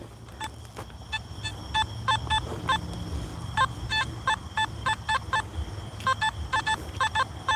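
Nokta metal detector sweeping for coins on a night hunt, giving a run of short repeated electronic target beeps in uneven bursts over a low outdoor hum, close and moderately loud.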